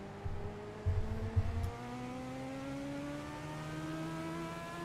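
An oval-track race car engine in a racing video game climbs steadily in pitch as it accelerates, a smooth rising drone with a few low thumps early on.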